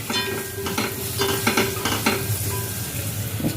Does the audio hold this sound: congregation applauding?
no